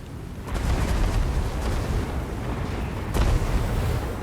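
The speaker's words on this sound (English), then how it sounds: "Alright, let's watch the world's craziest flame storm." Roaring, rumbling blasts of a flame storm from flame cannons in the Total War Warhammer 2 battle game, a dense sustained wall of fiery explosions that swells at the start and surges again near the end.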